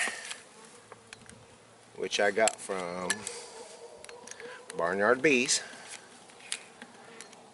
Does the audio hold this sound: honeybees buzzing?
yes